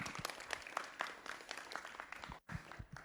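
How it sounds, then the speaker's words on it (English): Audience applause at a lunchtime talk about a farm, a short burst of steady clapping from a room of listeners, moderately distant. "Let's give him a round of applause."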